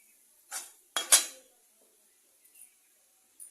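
Ground roasted chickpeas and makhana are dry-roasted in a pan, giving a few sharp, close clinks and scrapes of a utensil against metal, separated by quiet pauses, with no speech.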